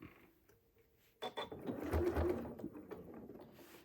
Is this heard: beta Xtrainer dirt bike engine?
no